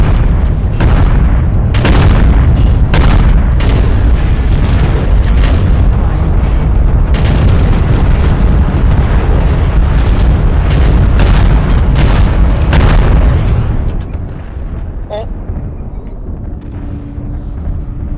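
Destroyed target blowing up in the Mechwarrior Online video game: sustained booming explosions and heavy weapon thuds roar loudly for most of the stretch, then ease into a lower rumble near the end.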